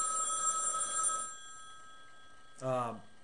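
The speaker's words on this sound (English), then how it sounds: "That's the phone." A telephone rings with a steady electronic trill for just over a second, then goes quiet, followed by a brief burst of speech.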